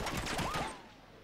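Incoming gunfire in Uncharted 3, a quick rattling burst of shots with bullets whizzing and ricocheting past, fairly close, then fading into quiet within about a second.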